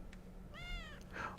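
A cat in the video game Children of Morta gives one short, clear meow midway through, over a low, quiet background hum, followed by a brief higher chirp.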